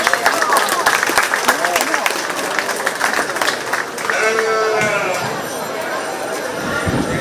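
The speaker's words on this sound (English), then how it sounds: "Let's give these three young individuals a big round of applause" Audience applause at a county fair 4-H/FFA youth sheep show, a crisp burst of clapping at the start that fades into crowd chatter and talking, with sheep-like bleats and murmurs in the background.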